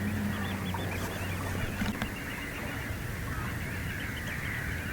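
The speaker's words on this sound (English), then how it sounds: "You can hear all the birds singing over here." Birds chirp and sing in the open near the Thames container port, their calls fairly faint over a steady low hum from the port and water, with a brief louder rumble near the start.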